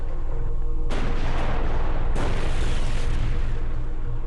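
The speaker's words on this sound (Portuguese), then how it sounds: "ambos os lados continuam trocando tiros" Dense, continuous battlefield gunfire from a Pacific War fight, with heavy bursts and booms rolling over each other. The noise swells sharply twice and stays loud throughout, with no voices.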